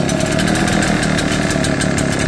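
A backpack leaf blower's small two-stroke engine runs steadily and loud, close by, a constant buzzing drone with no pauses or speech, beside a landscaping trailer.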